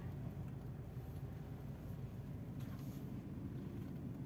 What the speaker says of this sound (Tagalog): May tricycle.